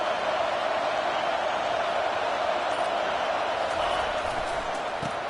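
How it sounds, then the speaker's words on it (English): A college football stadium crowd roars steadily and loudly while the defense is on the field, a continuous dense wall of noise with no clear breaks. "It is getting loud as this crowd tries to help its defense."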